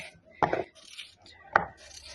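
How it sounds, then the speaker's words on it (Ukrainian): Two crisp, close knife chops into potatoes being cut into large chunks on a board, about a second apart, with a quiet pause between them. "я зараз ще й поріжу картоплю. Я люблю такими великими кусками"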